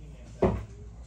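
A dog's wagging tail gives a single dull thump against a hallway door, short and fairly soft, over quiet room background.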